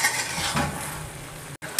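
Beef with spices for achar kadai gosht sizzles loudly in a kadai while being stirred, with rhythmic scraping bursts and a momentary silent cut before the frying resumes, no voices.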